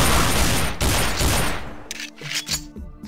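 Rapid sustained automatic gunfire from a video game, a loud dense burst of shots for over a second that then breaks into a few scattered separate bangs, with no voices over it.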